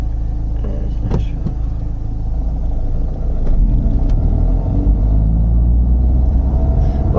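A car pulls away in first gear during a driving lesson, its engine rumbling low and close, then building steadily louder as it accelerates, with faint clicks and cabin noise.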